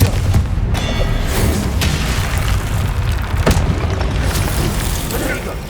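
Confringo, an explosive spell in Hogwarts Legacy, sets off loud, close booming blasts with sharp cracking onsets over a continuous roar of combat noise.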